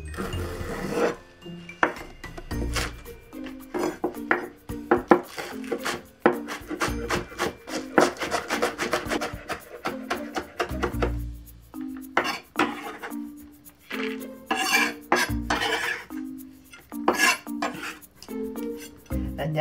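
Green onion being minced with a knife on a wooden cutting board, a steady run of close, crisp chops and scraping rubs, with short pauses between bursts and a few faint clinks of kitchenware.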